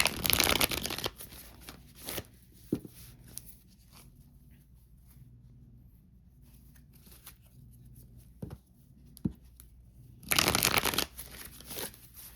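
A deck of Light Seers tarot cards being shuffled, bursts of riffling at the start and end with scattered soft card taps and slides in a quiet room between them.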